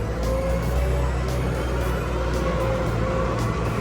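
Komatsu WA150-5 wheel loader with a hydraulic-pump transmission driving forward in gear, a steady loud engine drone with a low rumble holding constant throughout, no talk.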